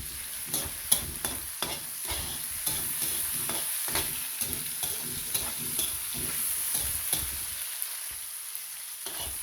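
Tomatoes being crushed and stirred in a sizzling pan, with frequent scraping spoon strokes and soft squelches over steady frying hiss, close and fairly quiet.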